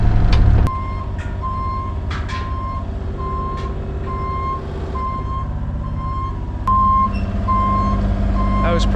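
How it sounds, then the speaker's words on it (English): A truck's backup beeper sounds a loud, evenly spaced run of electronic beeps over a steady diesel engine rumble, with a brief air-brake hiss at the start and another engine surge near the end. "This backup beeper is as loud as my skid steer."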